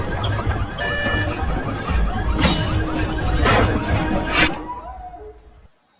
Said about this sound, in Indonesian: binatang itu pun berhasil memecahkan kaca